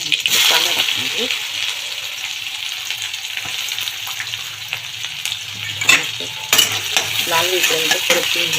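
Chopped onion sizzles in hot oil in a kadhai, with a steady frying hiss at close range broken by scraping and clinking as a spoon stirs it around the pan.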